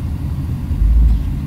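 A car reverses slowly, giving a close, loud low rumble that swells toward the end, with no voices over it.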